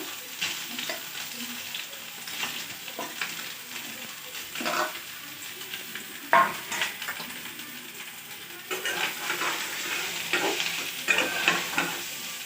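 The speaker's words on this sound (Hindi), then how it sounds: "देखंतु प्रथम मिल मेकर को भाजी देबा।" Meal maker soya chunks frying in a pan before potatoes are added, a continuous moderate sizzle broken by irregular spatula scrapes and clinks against the pan, heard close with no talking.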